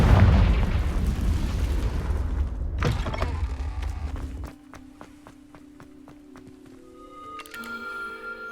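Confringo spell blast in the game Hogwarts Legacy: a loud rumbling boom with a second crack, fading into creaks and ringing chime-like game tones as the noise settles.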